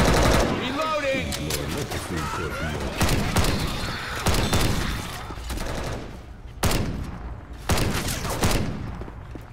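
Rapid bursts of gunfire from Left 4 Dead 2 rattle loud and close, with repeated volleys and short pauses between them while voices speak over the shooting.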